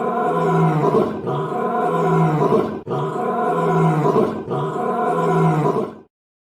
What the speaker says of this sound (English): Mitch Bergen wants the Lion Fuck growl again.